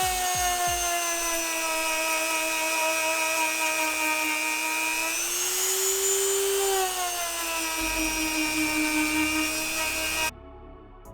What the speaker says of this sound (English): We're going to be using a Dremel tool right here.